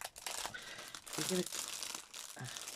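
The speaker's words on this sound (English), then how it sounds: "sorry, crinkle" Packaging from a craft supply order crinkles and rustles close up as it is opened, with plastic crackling in uneven bursts while someone talks over it.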